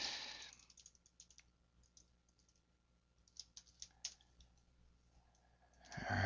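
Faint, quiet clicks of computer keys being typed at a desk, coming in small irregular bursts with a few louder taps near the middle and a brief louder rustle at the end.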